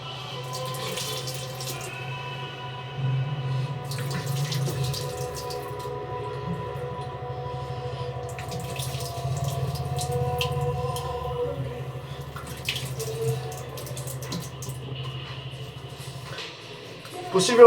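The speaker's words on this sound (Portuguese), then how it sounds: "a torneirinha, água na cara." Water runs steadily from a bathroom faucet into a sink during a shave, with bursts of splashing as it is thrown on the face, while someone talks quietly nearby.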